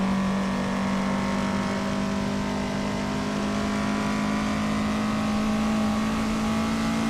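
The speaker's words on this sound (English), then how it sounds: "Nuts is driving a 1994 Mercedes C180 DTM" A 1994 Mercedes C180 DTM race car engine in a video game drones steadily at high revs, loud and close with a constant pitch, with no talk.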